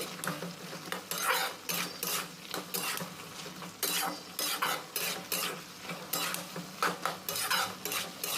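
Potatoes in a pan are stirred with chilli, turmeric and coriander powder, with repeated rhythmic scraping and clanking strokes of a spoon against the pan over a faint sizzle and no speech.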